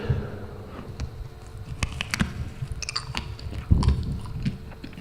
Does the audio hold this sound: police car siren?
no